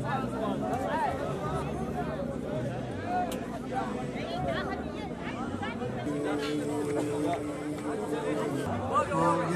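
A crowd chatters at a protest sit-in among tents in Wasit province, Iraq, a steady babble of many voices near and far, with a voice talking over it throughout.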